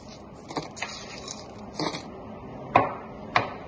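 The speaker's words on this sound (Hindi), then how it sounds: "अब हम आइस डालेंगे" Ice cubes dropping into cold coffee in a blender jar: a few sharp, separate clinks and rattles close by, a small cluster early and two distinct knocks near the end, over quiet background.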